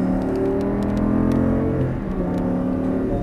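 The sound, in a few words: Audi R8 engine accelerating under throttle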